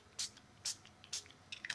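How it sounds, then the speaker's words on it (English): Ink sprayed onto paper in short, faint bursts, three separate hisses spaced evenly apart, then a quick flurry of smaller sprays at the end. "Just spray some here and there"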